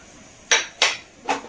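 A metal kadai pan is set down on a stove with three sharp clanks in quick succession, close and clear against a quiet kitchen.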